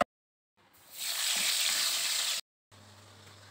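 Potato pieces coated in salt and turmeric hit hot oil with a loud, steady sizzle lasting over a second, then cut off abruptly; a low, quiet hum follows.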